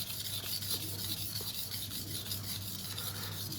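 A chef knife rasps steadily across a Naniwa whetstone, an even, continuous scraping of steel on the abrasive stone at close range, with no voices.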